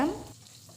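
Beaten egg hits hot oil in a pan with a quick loud sizzling burst that fades fast into a quieter, softer fry.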